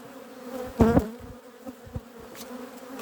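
Honeybees buzz around an open apiary hive with frames full of brood, a steady near hum rising to a louder burst early on, then settling into a softer drone.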